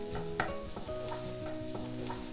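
Egg bhurji sizzles in a hot pan while a spatula scrapes and stirs it in quick repeated strokes, close and steady with no one talking.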